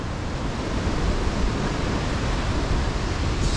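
Wairere Falls, the largest waterfall on New Zealand's North Island, pours with a steady, powerful broadband roar of rushing water that holds constant and close throughout, with no voices over it.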